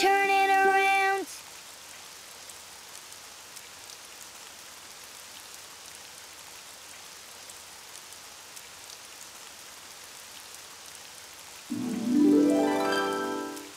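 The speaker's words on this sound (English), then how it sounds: "It's raining outside." Steady soft rain patters throughout in the Daniel Tiger's Neighborhood video game, with brief louder tonal sounds at the very start and near the end; no one speaks.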